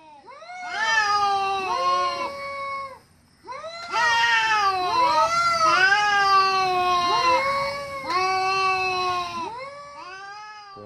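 A cat meows repeatedly and loudly up close, long drawn-out wailing caterwauls with pitch bends, coming in several sustained bursts with short breaks between them.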